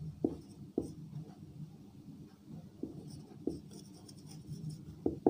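A hand writes a corrected Bengali word, producing faint, close scratching and tapping from the pen on paper in short irregular strokes, with no talking.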